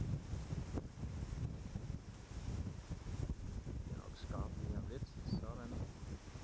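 Strong wind buffets the microphone on the El Camino del Rey mountain path at El Chorro, roaring steadily throughout, with faint bits of a voice in the later part.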